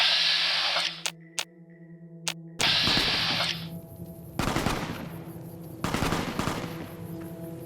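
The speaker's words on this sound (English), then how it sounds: "I hear gunfire, but see nothing." Bursts of rapid gunfire in Fallout: New Vegas, loud sharp volleys several seconds apart against a steady droning background, with no talking.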